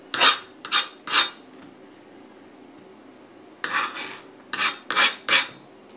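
A knife slicing green onions on a board for an African dinner, heard as three quick scraping cuts, a pause, then four more brisk cuts, close and clear with no talking.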